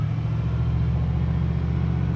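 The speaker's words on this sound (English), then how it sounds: "Exhaust is awesome on this baby." A steady, deep rumble of an idling 1963 Chevrolet C10 pickup truck engine and exhaust, continuous and close, with no other sounds.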